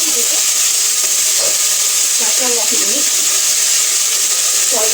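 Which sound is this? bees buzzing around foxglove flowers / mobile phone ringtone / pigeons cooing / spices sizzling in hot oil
spices sizzling in hot oil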